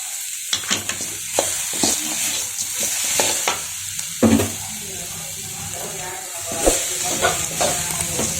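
Curry leaves sauté in a pan for country chicken masala, a steady frying sizzle broken by scraping stirs and clatters of a spoon against the pan, heard up close.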